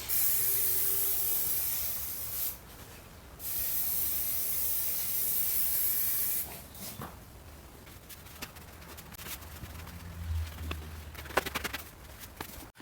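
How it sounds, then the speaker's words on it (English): Spray adhesive hisses from an aerosol can in two long, steady bursts along the edge of a car window cover, each lasting a few seconds, followed by quieter handling noises and light taps. "So you're going to spray the spray adhesive along the edge"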